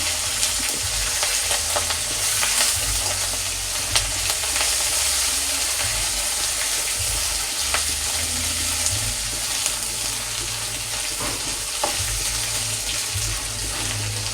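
Curry leaves and turmeric sizzling in hot oil for a vegetarian bottle gourd lentil dish, a loud, continuous close crackle and hiss with occasional stirring clatters, no talking.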